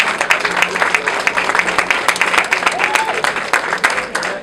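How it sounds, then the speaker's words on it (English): Audience applause at an award ceremony and dinner as an awardee is called to the stage: dense, steady clapping from a large crowd across the whole stretch, with voices mixed into the clapping. "Come on, people, big round of applause."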